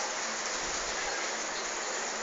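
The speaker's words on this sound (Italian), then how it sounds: "guarda come piove" Rain falls steadily outside a residential building on a cold day, heard as a dense, even hiss with a low rumble beneath it and no speech.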